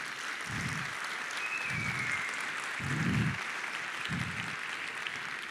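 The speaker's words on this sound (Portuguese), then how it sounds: "Um salve de palmas para ele." Faint applause from a lecture audience greeting a named attendee, a soft hiss of clapping that runs throughout, punctuated by four slow, regularly spaced low thumps.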